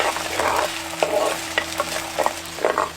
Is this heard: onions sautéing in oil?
yes